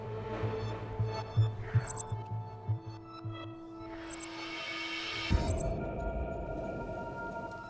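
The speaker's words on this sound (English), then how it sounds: "What's the rumbling, though?" Low rumbling hum drifts through the void in the video game The Complex, layered with tonal droning and several soft thuds, then a sharp shift into a denser, rougher rumble near the end; faint and without speech.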